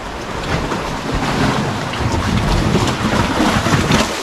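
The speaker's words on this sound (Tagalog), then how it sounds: "nagugulat ako sa tunog ng alon doon." Ocean waves crash against rocky shore, a continuous loud roaring wash of surf with swelling surges, heard close with wind noise and no talking.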